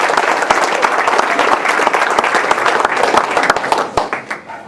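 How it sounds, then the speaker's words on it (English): Sustained applause from a luncheon audience honoring football coaches at a Rotary Club event, dense clapping holding steady before thinning out into scattered claps at the end. "So if you would please give your coaches a round of applause."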